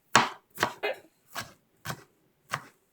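A knife chops food for seafood egg rolls on a cutting board, six sharp close knocks in an uneven rhythm, with clean silence between strikes.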